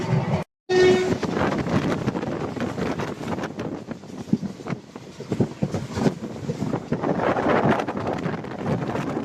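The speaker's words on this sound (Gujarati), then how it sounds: "આપણા રાજકોટની ટ્રેન પોરબંદરમાં આપણે બેસી ગયા છીએ." A passenger train on the Rajkot to Porbandar route rolls along with continuous rumble and wind buffeting, and a short horn blast sounds near the beginning.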